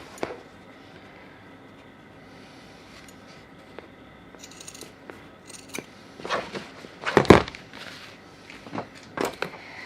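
Scissors snipping two 3-inch pieces for a piping craft project, a few sharp close cuts clustered after quiet handling sounds, with no talking.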